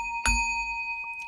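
A single bell strike rings out with a sharp attack and a clear sustained tone that lingers steadily, fairly close and alone, with no voices.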